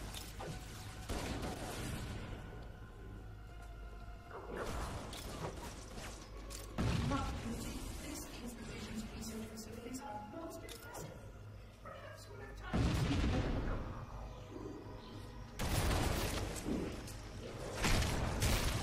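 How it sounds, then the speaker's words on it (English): Explosions and weapon fire in the Halo: Combat Evolved Anniversary campaign, a dense barrage of loud booming blasts and thuds in bursts across the whole stretch, with game effects and some speech mixed in. "So many explosions."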